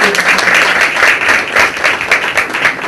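A crowd applauding, dense steady clapping from many hands, loud and sustained throughout.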